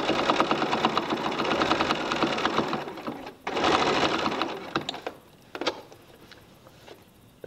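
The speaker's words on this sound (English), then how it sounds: "So we're just gonna sew along here." A sewing machine stitches quilt binding, running in a steady, close, fast mechanical patter. It stops briefly, restarts, then gives way to a few lighter clicks and taps near the end.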